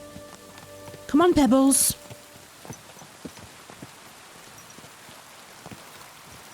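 Steady rain patters down in the medieval open world of Kingdom Come Deliverance II, a dense even hiss running under the whole stretch, with a brief burst of speech and a few soft hoof-like clops standing out early.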